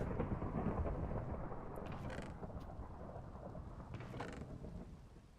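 Steady rain hisses throughout a Minecraft BetterWithMods world at night, with a broad low rumble of thunder and a few soft crackles rising over it, alone without talk.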